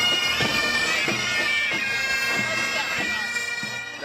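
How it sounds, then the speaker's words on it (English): Bagpipes playing at a St. Patrick's Day parade in downtown Fargo, a steady loud droning tone with shifting melody notes over continuous outdoor noise. "That is the sound of bagpipes,"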